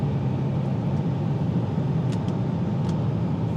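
2025 Ford Maverick Lobo small pickup truck driving, its engine a steady, close low rumble heard from inside the cab, mixed with continuous road noise and no talk.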